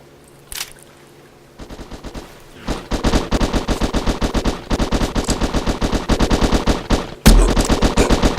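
Rapid automatic gunfire in a video game, bursts of fast repeated shots at close range with a heavy blast near the end.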